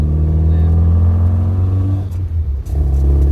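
A classic Mini car engine runs and revs close by, a steady rumbling drone with a brief dip in the middle.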